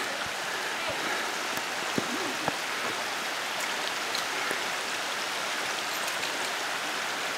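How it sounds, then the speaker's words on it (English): Creek water rushing across a hiking trail near Burnt Lake, a steady broadband wash of flowing water close by, continuous and even throughout with a few faint clicks. "I have to do some creek crossing."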